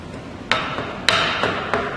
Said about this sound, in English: Sometimes a slight tap with a hammer right there, using a block of wood.